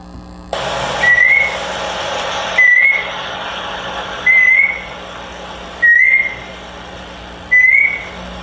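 A person whistles short rising chirps, five in a row at regular intervals, imitating a bird over a steady background hum.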